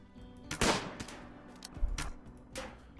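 Bolt-action rifle gunfire in RimWorld, several sharp separate shots spaced irregularly over a few seconds, each a crisp bang with short decay, against a quiet low hum.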